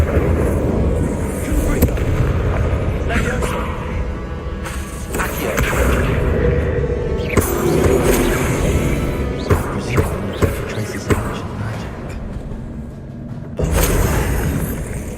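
Incendio fire spell cast in the Hogwarts Legacy video game, a loud fiery burst with crackling booms that keep flaring and thudding through the scene amid game sounds.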